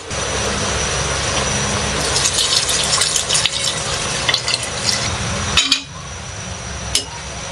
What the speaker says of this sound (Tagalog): Kaya lagyan na po natin ng tubig.